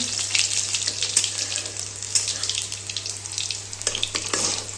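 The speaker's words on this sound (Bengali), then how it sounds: "রসুন দিয়ে দেবো, দিয়ে লাড়িয়ে নেবো।" Crushed garlic frying in hot oil in a pan, a bright, steady hiss with scattered crackles and a few spatula scrapes near the end, heard close over a constant low electrical hum, no speech.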